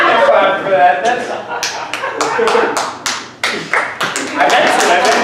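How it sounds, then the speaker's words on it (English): Audience clapping at a comedy show, irregular sharp claps near the mic that start after a voice and continue under talk and laughter. "Clap for that."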